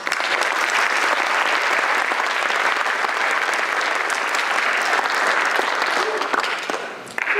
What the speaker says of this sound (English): Let's have a round of applause for all the students in independent English ESL.